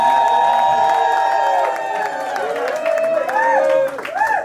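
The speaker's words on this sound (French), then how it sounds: "des cris de joie et vos acclamations." Guests at a Congolese wedding cheer loudly and applaud just after the couple is declared married, with rising shouts, whoops and sustained clapping from a close crowd throughout.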